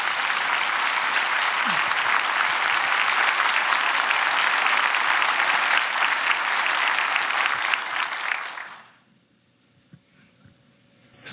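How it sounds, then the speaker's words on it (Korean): An audience at a church dedication service applauds warmly to welcome a pastor, a dense, loud clapping that holds for about eight seconds before fading out into near silence. "뜨거운 박수로"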